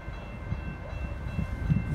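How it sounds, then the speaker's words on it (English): A Metra express commuter train runs through a Riverside, Illinois station without stopping, heard as a low, steady rumble that swells slightly toward the end. "The next Metra train approaching your station will be a Metra Express train and will not stop."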